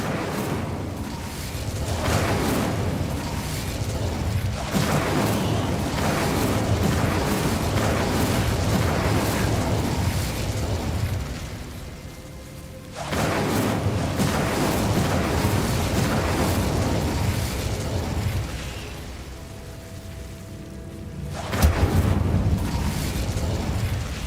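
Confringo and Incendio spell blasts in a wizarding video game come as sustained, dense fiery bursts and whooshes in two long roaring stretches, broken by short quieter gaps and a sharp hit near the end.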